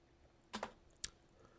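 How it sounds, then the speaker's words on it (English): A few quiet, crisp keystrokes tap on a computer keyboard: a quick pair of clicks, then a single click a moment later, with near silence around them. "we're going to just type in 220"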